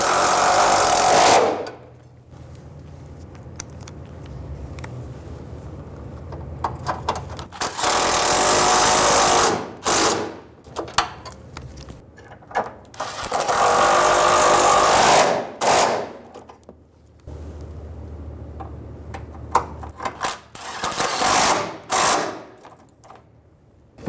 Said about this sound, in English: Install the bolts for the lower radiator bracket.